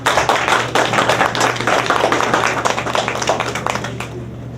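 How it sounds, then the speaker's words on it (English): An audience at a poetry show in a hair gallery claps steadily for about four seconds, the sound dense and close, with a low steady hum beneath it that fades out at the end. "Clap it up."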